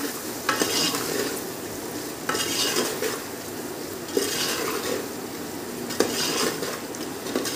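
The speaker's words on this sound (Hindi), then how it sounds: "हाफ चम्मच हल्दी ये मैंने डाल दिया और इस मसाले को अच्छी तरह भून लेंगे" Spice masala with half a spoon of turmeric frying in a pan for tempered moong and masoor dal: a continuous sizzle broken by repeated scraping stirs and spoon-on-pot knocks, close and alone.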